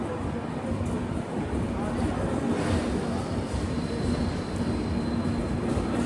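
Vivek Express train rolling on its way toward the Farakka Barrage over the Ganga, a steady dense rumble and rush throughout with no breaks, heard close from on board.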